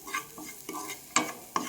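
Ground spices frying on a low flame while a spoon stirs them, soft rhythmic scraping strokes over a quiet sizzle, ending in two sharper clinks of metal against the pan.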